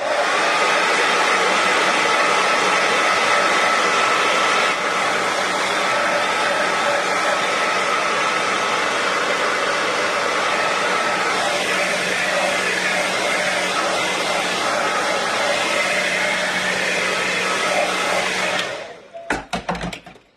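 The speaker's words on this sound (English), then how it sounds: "I'm just going to do a little burst of heat here" A heat tool blows hot air over a wet stencil in a craft setting, a loud, steady fan roar that runs unbroken for most of the time before cutting off abruptly near the end; no one speaks.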